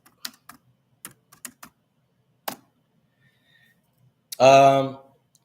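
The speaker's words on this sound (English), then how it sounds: "let me go ahead and type" A few sparse, light keystrokes tap on a computer keyboard in a quiet room, followed by a brief, louder voiced sound near the end.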